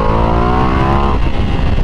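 Ducati Multistrada 1200S motorcycle being ridden, its engine loud and close with a strong harmonic drone that climbs in pitch, then shifts and settles as the rider changes gear.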